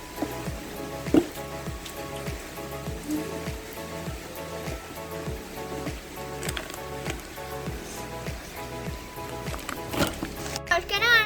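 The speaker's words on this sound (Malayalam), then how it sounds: "മഴയൊക്കെ തെറിക്കുന്നു. കാരണം വിൻഡ് ഇതേപോലെ പോവാണ്." Wind-driven rain splashes and patters steadily on nearby surfaces during a stormy outing, with scattered drips and occasional louder splats, while voices are heard faintly in the background.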